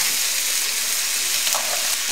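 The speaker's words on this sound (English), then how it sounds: "And now I'm just going to add our shredded cabbage." Shredded cabbage hisses and sizzles steadily in a hot pan, a loud, even frying crackle that stays constant throughout with no voices.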